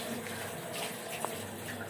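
Tap water running faintly and steadily while cleaning in a home kitchen, a soft continuous hiss with a small splash midway and no clear speech.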